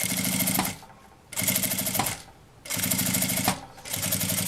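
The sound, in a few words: sewing machine stitching a straight seam on bias binding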